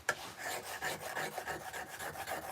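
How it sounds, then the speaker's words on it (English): A steel stone-carving chisel is sharpened with quick, rhythmic rasping strokes, each one a soft scrape close by, repeating steadily with no talk. "I am actually going to sharpen the chisel quickly"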